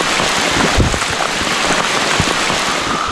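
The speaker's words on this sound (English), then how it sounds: "Oh, it's raining hard again." Heavy rain pours steadily during a remote fly fishing trip along streams in north central Pennsylvania, a loud, dense hiss with scattered close drops and no talking.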